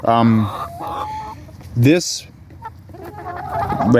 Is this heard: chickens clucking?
yes